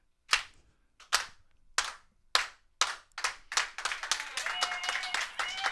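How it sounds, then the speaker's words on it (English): A studio slow clap, single loud claps spaced well apart that gradually quicken and then break into fast, overlapping applause with cheering voices mixed in. "we're going to need to do the slow clap one more time in the studio"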